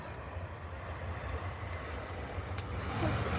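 A Ryanair airliner taxis at Manchester Airport, a steady low jet-engine rumble and roar at moderate distance that swells slightly toward the end.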